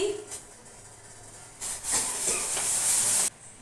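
Tea water with tea leaves bubbling on a gas stove in a home kitchen: a soft hiss that swells into a brighter, sustained sizzling rush for over a second, then cuts off abruptly.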